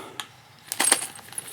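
Small new metal nuts and washers for a 36-volt golf cart solenoid (1996 Yamaha G16) clink and jingle in light handling, with a few brief close taps and a denser cluster of rattles, no talking.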